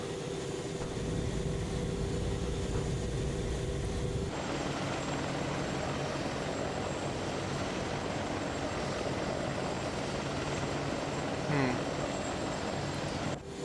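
AH-64D Apache helicopter in the game Arma 3, a steady, loud rotor and turbine drone that holds constant throughout, with a brief shift in tone partway and a faint whine near the end.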